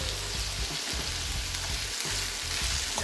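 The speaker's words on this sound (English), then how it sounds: "just gonna stir these vegetables around. Let them cook in there." Vegetables with onions sizzle steadily in a hot pan, with a few scraping stirs breaking the constant frying hiss; close and fairly loud, no talking.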